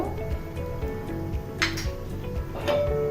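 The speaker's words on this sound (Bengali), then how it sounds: "চার পাঁচটা কাঁচামরিচ দিয়ে দিলাম একটু নেড়ে চেড়ে দিব" Tomato and green chilies are stirred with pumpkin in a pan. Faint metallic clinks and scrapes come at irregular moments over a steady background hum, with a couple of sharper clatters near the end.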